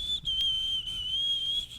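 A person whistles to imitate a mysterious whistle from Amazonian myth: a steady, high, single-pitched tone held for nearly two seconds with a brief break near the start, close and clear.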